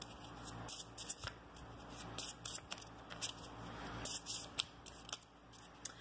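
Oracle cards handled and shuffled, soft close riffles, slides and flicks of card stock coming in irregular small bursts over quiet background.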